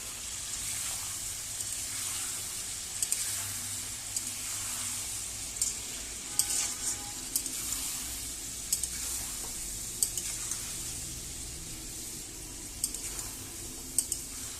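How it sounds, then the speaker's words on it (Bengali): Chicken pieces with a little salt fry in a pan, giving a steady close sizzle while a spatula stirs and scrapes, with occasional sharp clinks against the metal and no talking. "তো ভালোভাবে ভাজা হয়ে গেছে।"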